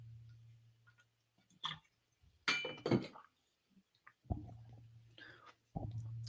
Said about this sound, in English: I'm going to take a quick sip of water here on my stainless steel bottle.